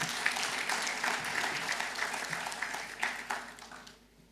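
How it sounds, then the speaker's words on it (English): A crowd applauding steadily at a tech launch event in Uganda, dense clapping that holds for several seconds before tapering off at the end. "So we need to give him a big round of applause"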